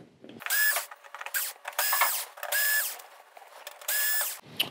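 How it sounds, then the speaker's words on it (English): A small power screwdriver backs screws out of the TCON board on a Sony XBR-65A8F television, in four separate whirring bursts with short quiet gaps, close and fairly soft, with no talk. "Now let's get these screws out, and this should be the TCON away from the chassis."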